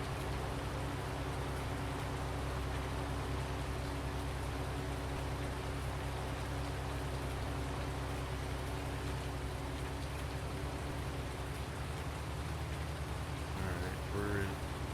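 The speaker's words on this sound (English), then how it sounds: "it's raining on my map" Steady rain falls in Farming Simulator 19, a constant, even hiss layered over a low engine-like hum, with a brief faint voice near the end.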